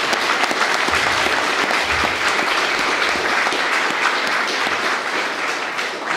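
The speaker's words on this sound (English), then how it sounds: "Round of applause." Loud, dense audience applause fills a hall at a pre-election discussion event, a continuous wash of many hands clapping at close range for the full stretch with no talk over it.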